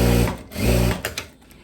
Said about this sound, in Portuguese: Vou passar uma costurinha aqui e já vou fazer limpeza lá na reta